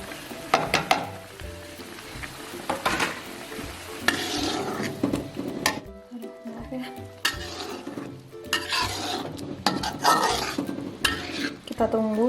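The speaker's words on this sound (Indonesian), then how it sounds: "Nah, ini sekarang sudah mendidih. Langsung kita masukin ikan terinya ya." Dried anchovies go into boiling arsik seasoning in a pan, with steady bubbling and sizzling, spoon scraping and stirring clatter against the metal, and a brief quieter pause midway.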